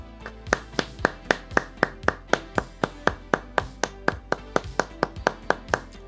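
Slow, evenly spaced golf clapping, about twenty crisp single claps in a steady rhythm, close and clear with no other sound around them.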